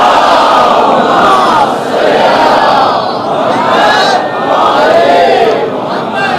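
A large crowd loudly recites salawat in unison, voices rising and falling in long swelling phrases that repeat several times.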